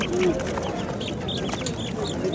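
A hen with her six chicks at a busy poultry bazaar in Namangan, the mother clucking low while chicks peep in thin high bursts, surrounded by market chatter and voices.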